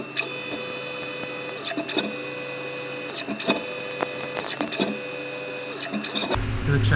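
A Mitsubishi milling machine bores a hole, producing a steady whine with high tonal hum and repeated clicking and ticking over constant machine noise, and a louder burst at the end.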